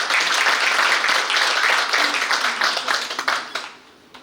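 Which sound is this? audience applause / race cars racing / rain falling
audience applause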